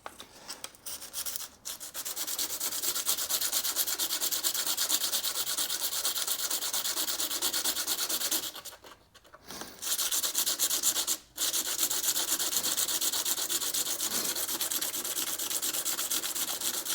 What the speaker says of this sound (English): So I just need to go further with the sandpaper.